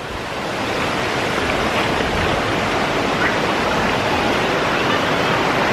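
Cold water runs down from the mountains in a steady, full rush, close and fairly loud, with no voices over it.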